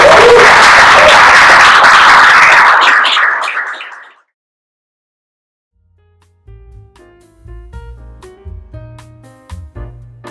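An indoor audience gives loud, dense applause that swells and then fades out over several seconds, followed by silence and then low rumbling handling and shuffling noises.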